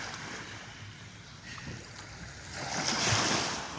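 Ocean waves washing and breaking near a small boat at sea, a steady close rushing swell with wind noise that builds toward the end.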